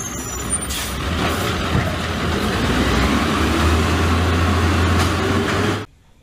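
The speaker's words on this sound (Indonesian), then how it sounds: "Lihat teman-teman, ini adalah truk sampah." A garbage truck's engine rumbles steadily and loudly close by, with air brakes hissing in bursts over the low drone before the sound cuts off abruptly near the end.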